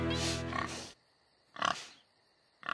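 A cartoon pig oinks in loud, nasal, squealing grunts. A long opening snort is followed by two shorter oinks, close up with little else behind them.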